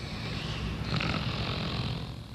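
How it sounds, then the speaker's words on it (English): A person snoring, a rough, buzzing breath rattle that swells slightly midway and holds as a steady, fairly close drone. "It's snoring, and we're going to look at what causes snoring and how it can be helped."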